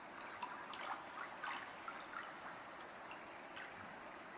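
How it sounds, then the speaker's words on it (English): Faint water trickling in a steady low wash, with small drips and splashes rising now and then. "I can only hear water. Can you hear water, guys? Little trickles."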